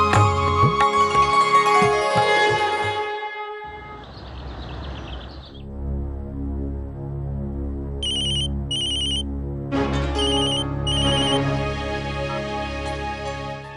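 Telephone ringing for an incoming call in a Tamil TV serial scene, a loud electronic ringtone with repeated trilling bursts over sustained musical tones, continuing for several seconds with no voices.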